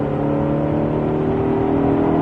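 Ford Mustang Shelby GT500 accelerating on a race track, a loud, continuous engine roar heard from inside the car as the pitch climbs steadily.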